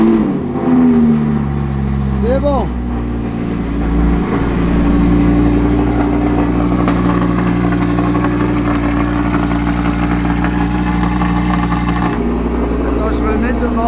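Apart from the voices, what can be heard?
car engine cold starting then idling, open valve exhaust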